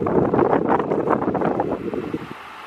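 A Mistral Sunray electric fan runs steadily close by, giving a continuous breathy whoosh of moving air with faint rattly flutter that eases slightly toward the end, with no talking.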